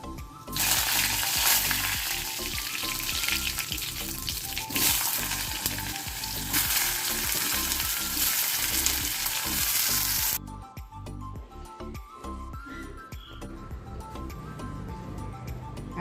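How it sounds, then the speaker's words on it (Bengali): Potato curry with curry leaves fries in a pan with a loud, steady sizzle that holds for several seconds, then drops to a quieter crackle near the end, with no one speaking. "কারি পাতা দিয়ে আলুর তরকারিটা করে নেব"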